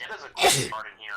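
A single sharp sneeze bursts out in the middle, loud and close, between stretches of casual talk during a Fallout 3 game session.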